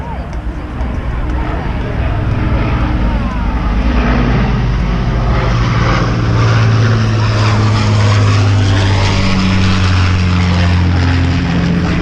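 An Avro Lancaster bomber flies overhead near a tent entrance, its propeller engines giving a loud, sustained droning roar that swells and holds with a deep throbbing hum, while people talk over it.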